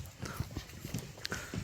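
Horse hooves clip-clop close by at a horse market. The quick, steady beats come in a short stretch as the animal is led along, with no talk over them.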